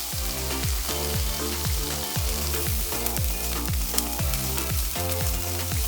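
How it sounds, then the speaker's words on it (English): Onion sautéing in a pan for a budget plant-based and lentil filling gives a steady, close, even sizzle throughout, with regular rhythmic clinks of a utensil stirring against the pan. "Saute an onion, and then we use my secret budget weapon."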